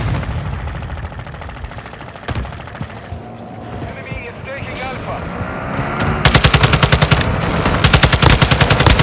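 Loud TAQ-56 (SCAR-style) rifle gunfire in the video game Call of Duty: Modern Warfare II, with scattered shots and then a dense, rapid automatic burst in the final seconds, over game ambience.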